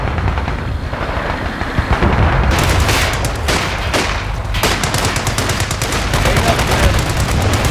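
Video game gunfire, dense rapid bursts and booming shots running continuously and loud across the whole stretch, layered with battle noise, under faint game voice lines.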